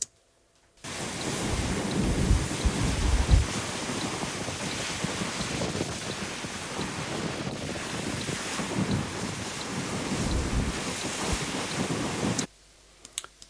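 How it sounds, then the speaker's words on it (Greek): Strong seaside wind buffets the microphone during kite filming, a loud continuous rumbling roar over sea waves, steady for about twelve seconds before cutting off abruptly. "είχε πάρα πολύ αέρα και θέλω να δω αν μπορώ να αφαιρέσω τον αέρα και να αφήσω μόνο τον ήχο της θάλασσας"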